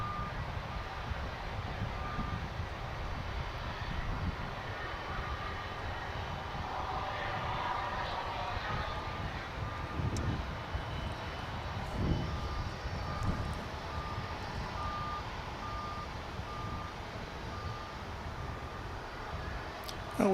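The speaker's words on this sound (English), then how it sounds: "Got an engine check going on" An aircraft engine runs up for a check at Dallas/Fort Worth Airport, a distant, steady roar that holds throughout, with faint high beeps and other airport background noise mixed in.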